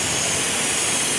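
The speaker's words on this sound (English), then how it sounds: "you can hear the induction noise" A loud, continuous roaring whoosh of induction noise from a Dinan intake on an E36 BMW M3, broad and steady for the whole short moment.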